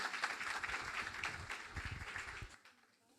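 Audience applause at a live cooking event fills the room, a dense steady clatter of many hands that fades out near the end.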